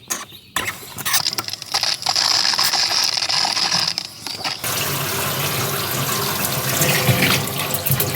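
Hot water tap on the outside of an off-grid homestead house: a mechanical clicking and ratcheting as the valve is worked, then a loud, steady rush of running water that continues to the end.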